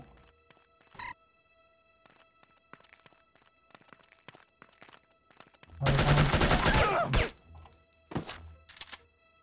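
Gunfire in the spy shooter The Operative: No One Lives Forever: scattered quiet thuds and clicks, then a loud burst of rapid automatic shots lasting about a second and a half, followed by a few fainter single shots.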